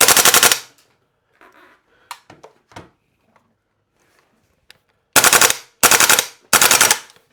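A Well Pro PPK-20 full-metal gas blowback airsoft SMG fires BBs in loud, rapid full-auto bursts, one at the start and three close together at the end, with faint clicks and handling noises in between.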